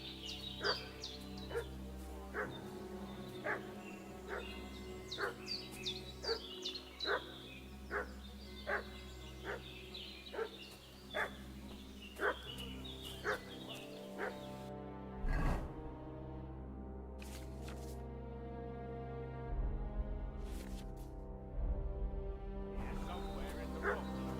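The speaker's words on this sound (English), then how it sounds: "What's that dog making such a fuss about?" A dog barks repeatedly in an even rhythm, moderately close, in the medieval open-world game Kingdom Come: Deliverance II, a few sharper yips near the end, with a low ambient music bed and no voices over the barking.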